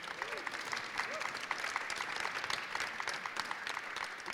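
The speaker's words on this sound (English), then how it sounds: "So perhaps an applause is possible" An audience at a panel on trans data rights applauds a speaker's introduction, with quiet, distant clapping from a modest crowd and faint voices underneath.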